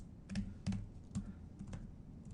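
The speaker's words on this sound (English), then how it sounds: "it's really hard to type BGP in front of that" Typing on a computer keyboard while entering BGP router commands, a handful of separate key clicks spaced irregularly over a low hum, fairly close and clear with no talking.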